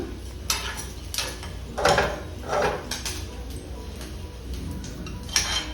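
Beetroot chutney being stirred with dried shrimps in a pan: a spoon scrapes and knocks against the metal in several distinct, irregular strokes over a low background hum.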